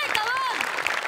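A studio audience at a Marathi television comedy show claps in a short burst of applause, heard beneath a person speaking.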